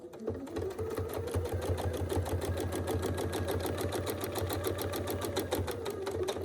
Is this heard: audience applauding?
no